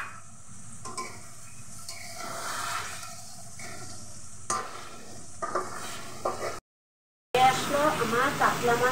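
Katla fish dopiaza with coriander leaves cooks in a pan, giving soft sizzling with intermittent stirring and utensil scrapes, broken by a brief silence and followed by a louder burst of activity.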